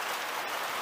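Steady rain hisses down in a brief, even wash of drops, fairly faint and with no voices.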